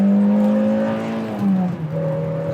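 A Peugeot 405 Mi16's engine revs up under acceleration, heard from inside the car as a loud rising whine that climbs steadily, breaks off at a gear change, then picks up again at a lower pitch.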